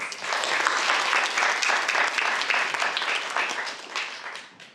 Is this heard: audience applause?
yes